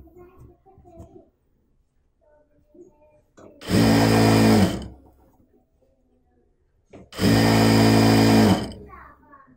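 A sewing machine stitches fabric while a bed sheet is converted into an umbrella churidar, running in two loud, steady bursts of about a second each, with quiet speech and handling noises between them.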